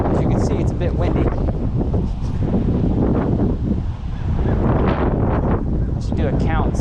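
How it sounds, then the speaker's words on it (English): Gusty wind buffets the microphone beside a roadside creek during tenkara fly fishing, making rough low roaring bursts with a voice talking over it and a few honk-like cries. "But as you can see, it's a bit windy."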